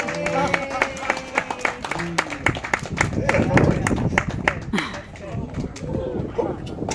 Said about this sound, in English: Sometimes people clap.